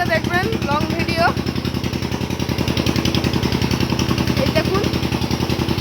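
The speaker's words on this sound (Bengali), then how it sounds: "এই দেখুন সেলো মেশিন।" A shallow pump engine running in a banana field, chugging in a fast, steady mechanical rhythm close by while someone talks over it.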